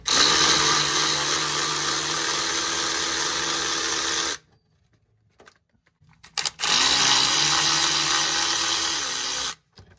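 A power tool, likely an impact gun, loosens a crossmember bolt on a 1971 Dodge Super Bee, running loudly and steadily in two long bursts with a short pause between.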